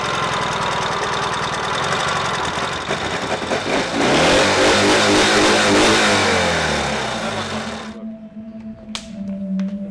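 A Ural motorcycle engine runs close by, its revs climbing and falling in a rough throb before dropping abruptly to a quieter, thinner idle near the end.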